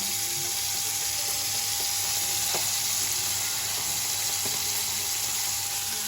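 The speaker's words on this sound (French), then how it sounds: "bien rôti les rognons, on les retourne un petit coup" Lamb kidneys roasting in a pan with a vinegar reduction, a steady broad hiss of frying with a couple of faint ticks and pops, close and continuous, no voices.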